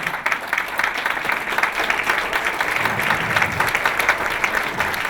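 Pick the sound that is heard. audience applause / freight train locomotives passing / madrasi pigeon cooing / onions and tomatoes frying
audience applause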